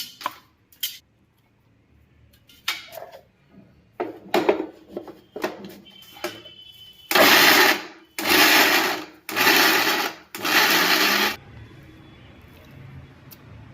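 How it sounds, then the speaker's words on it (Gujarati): A kitchen mixer grinder pulses garlic, ginger and green chillies in its jar for a coarse paste, four loud bursts of a second or so each, preceded by scattered clicks and knocks of handling. "આ મિક્સરના જારમાં આપણે પીસી નાખીએ"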